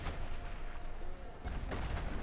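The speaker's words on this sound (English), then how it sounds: "They tried to shoot me with a missile." A missile fired at a Khanjali tank in GTA V, heard as a dense, roaring blast of game gunfire and explosions, with two heavier booms landing close together near the end.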